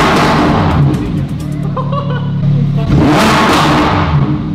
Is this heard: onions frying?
no